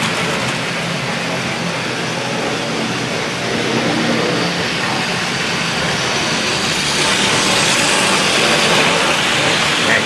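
A Hornby model train locomotive runs along track with a continuous close whirring rumble and rattle that stays loud and steady throughout.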